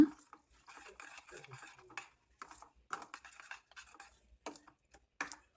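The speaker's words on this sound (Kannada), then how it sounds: "ಚಟ್ನಿನ ಚೆನ್ನಾಗಿ ಒಗ್ಗರಣೆಗೆಲ್ಲ ಮಿಕ್ಸ್ ಆಗೋ ರೀತಿ ಕಲಿಸ್ಕೊಳ್ಳೋಣ" A spoon scrapes and stirs onion and dried red chilli chutney with tempering and turmeric in a pan, in short bursts of gentle scraping and clinks with brief pauses, close and quiet.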